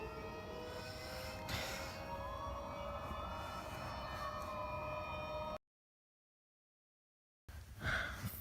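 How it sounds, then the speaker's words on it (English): A siren wails in windy weather, a sustained rising and falling tone over a rushing background, cutting out abruptly partway through before noisy sound returns. "Finally, the siren is over in the wind."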